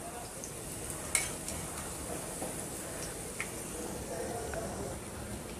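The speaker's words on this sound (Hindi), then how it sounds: "गोल्डन ब्राउन होने तक फ्राई करेंगे।" Pakoras deep frying in oil in a kadhai, a soft continuous sizzle with a few light clinks of utensils, with speech present.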